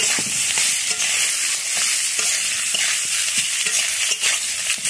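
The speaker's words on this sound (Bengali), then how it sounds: "সবজিগুলো যে ভাজা হয়ে গেছিলো ওইগুলোকে দিয়ে দিচ্ছি। একটু নেড়ে নেব হালকা করে।" Fried vegetables are stirred in a pan of hot oil at a home stove, with loud close scraping strokes in a quick irregular rhythm over a constant sizzle, and no voices.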